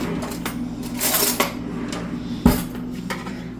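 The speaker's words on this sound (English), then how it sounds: "I'm going to take a spoon." A spoon clinking and scraping against a dish, with a couple of sharper metallic taps amid soft handling noise, close and without speech.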